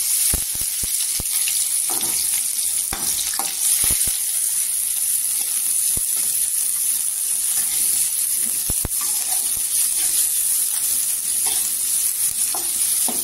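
Sliced onion frying in hot oil with golden garlic, a loud steady sizzle with sharp clicks of stirring against the pan, close up and without speech.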